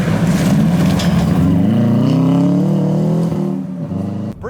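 A car engine revs hard while trail braking toward a corner exit and a gear shift, a loud sustained roar whose pitch climbs steadily, then drops and wavers as the revs fall, ending abruptly.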